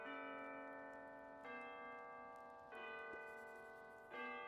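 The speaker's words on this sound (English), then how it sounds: "Ah, the soft sounds of the distant bells" Distant church bells ring slow, sustained tones, with three or four fresh strikes each blooming over the decaying hum of the last, soft and unaccompanied by voices.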